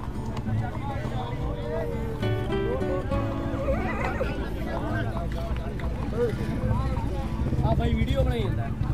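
A horse neighs and whinnies at a crowded horse fair in Muktsar, Punjab, with hooves clopping and people talking nearby throughout.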